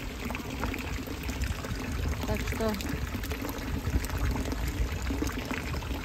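Running water splashes and pours steadily from a fountain on a Zürich street, with street ambience and a voice speaking briefly over it.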